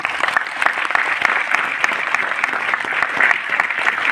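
An audience claps at a success celebration event in Delhi. The applause is dense and continuous, with many hands clapping at a steady, lively level throughout.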